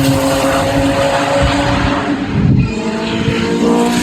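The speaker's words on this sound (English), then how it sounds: "Here's the GT4 Cayman." A Porsche Cayman GT4 drives past on the Donington Park circuit during a track day. A loud, sustained engine note swells and sweeps by near the middle, over a steady background rumble.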